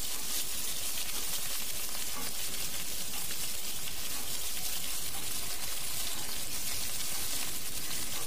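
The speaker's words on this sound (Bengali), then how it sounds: "সবজিগুলোকে একটু ভেজে নেব, সমস্ত সবজিগুলোকে মিনিট খানেক একটুখানি নেড়ে চেড়ে ভেজে নিচ্ছি।" Beans, pumpkin, cauliflower and potato frying in oil for khichdi, giving a steady, fairly quiet hiss and crackle with faint scraping throughout, no voices.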